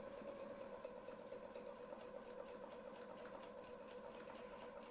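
A domestic sewing machine runs steadily while quilting along a template, its close, even motor whir and rapid needle clatter continuing without pause.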